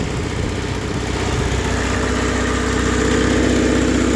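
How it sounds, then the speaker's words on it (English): Loud, steady rumble of a 1963 Alfa Romeo Giulia Spider engine with a Weber 32/36 carburetor idling close by, even and continuous with a slight throbbing beat throughout. "It's idling really nice."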